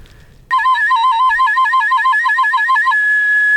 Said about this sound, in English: My tin whistle playing needs some work